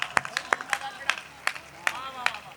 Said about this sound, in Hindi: कहीं छोटी सी ताली की बात हो, वहां बड़ी ताली दे देना